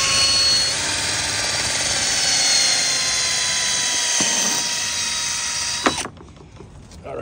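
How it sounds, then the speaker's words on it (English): A power drill pre-drills a hole in wood for a wall-mounted grape trellis, droning steadily and loudly for about six seconds before cutting off, followed by faint handling noise. "So let's pre-drill a hole."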